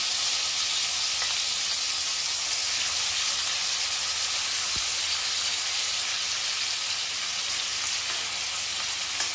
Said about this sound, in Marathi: आता मिरचीची फोडणी देते